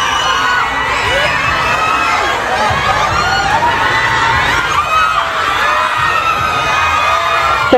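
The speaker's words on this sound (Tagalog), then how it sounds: "So much screaming." A large crowd at a film premiere red carpet screams and cheers nonstop, with high-pitched shrieks and whoops from many voices right nearby and no pause.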